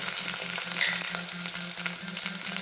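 Ground chili and turmeric hit hot oil for a sweet-and-sour moong dal, giving a close, steady sizzle and crackle with light stirring, over a rhythmic repeating background beat.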